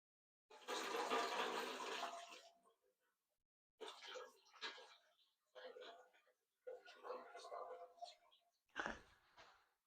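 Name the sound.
water filling a pressure cooker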